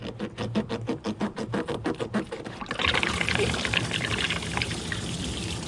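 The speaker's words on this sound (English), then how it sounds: "And all that coolant's going to drain." Engine coolant pours from a radiator hose just pulled off a vehicle, a steady broadband gush of liquid swelling in after a few seconds of rhythmic knocking and handling, fairly close and continuous to the end.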